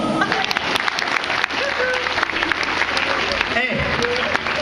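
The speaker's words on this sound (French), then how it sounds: "Applaudissements." An audience at a live show breaks into loud, sustained applause, a dense continuous wash of clapping, with occasional voices and cheers mixed in.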